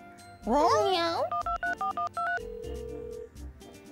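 In a cartoon, a telephone number is dialed as a rapid series of about seven short, evenly spaced beeping tones, followed by a steady ringing tone, with a child-like voice heard just before.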